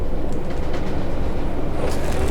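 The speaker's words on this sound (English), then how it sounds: "I can hear the sound of a train there." A train passing in the Fernbus Simulator driving game, a steady close rumble with faint rhythmic clatter, heard alone without voices.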